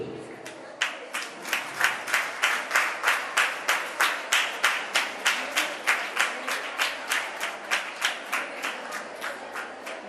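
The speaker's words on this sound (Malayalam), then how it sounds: "CRPP എല്ലാവർക്കും കൈയടിച്ച്" Audience at a school reunion day at St Mary's CGHSS clapping in unison, a steady rhythmic beat of sharp group claps repeating about three times a second, fairly close and loud, with faint talk underneath.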